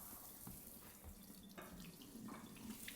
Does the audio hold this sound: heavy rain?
no